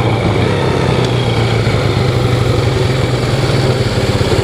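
A Yamaha Moto4 ATV with a four-speed gearbox has its engine running at a steady loud, close idle with an even rhythmic chug and no voices.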